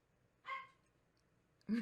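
A dog gives two short barks, the first a brief mid-pitched yip and the second a deeper bark about a second later, both faint against a quiet background.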